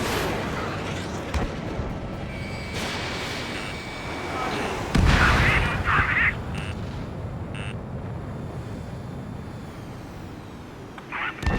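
Game audio from the jet combat game Ace Combat 7: Skies Unknown, with a dense roar of explosions and missile blasts, one sharp loud burst in the middle and shorter bursts later, alongside radio voices and music.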